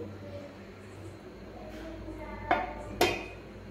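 A lid goes onto a cooking pot holding Gobindobhog rice and water for basanti pulao, giving two quick metallic clanks near the end over a low background hum.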